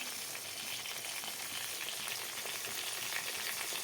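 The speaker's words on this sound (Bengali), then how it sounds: "কড়াইতে তেল চাপিয়ে দিলাম মাছের জন্য মাছগুলো ভেজে নেব" Pieces of katla fish frying in hot oil in a wok give a steady, dense sizzle that holds evenly throughout with no talking.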